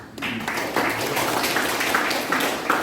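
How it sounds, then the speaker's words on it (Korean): Audience applause at the founding general meeting of a memorial society held at a prison history museum, a steady wash of clapping from a crowd lasting several seconds. "한번 박수 한번 주시죠."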